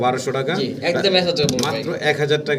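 Fancy pigeons coo in low throaty rolls close by while someone talks steadily over them throughout.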